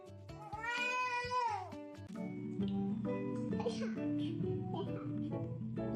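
A kitten lets out a long, rising and falling meow up close, loud and drawn out for over a second, followed by shorter mews mixed with busy household noise and voices talking nearby.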